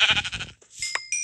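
A Minecraft sheep bleats in a short wavering burst, followed by brief game sound effects and tonal pings, loud and close with no talking.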